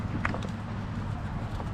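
Hooves clip-clop faintly at a gathering of many horses, a few soft hoof knocks over a steady low rumble of background noise.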